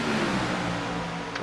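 A race car engine in a sim racing game at Las Vegas drones steadily at high revs, a continuous close hum held for a moment without any talk.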